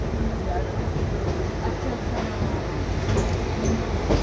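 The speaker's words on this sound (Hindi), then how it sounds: "हाँ, जैसा मैंने आपको कहा ये है राजधानी एक्सप्रेस। WAP7 लगा हुआ है इसमें" A Rajdhani Express hauled by a WAP7 electric locomotive at Ludhiana Junction gives a steady rail rumble with faint clickety-clack throughout, a continuous mid-level rolling noise with no distinct horn.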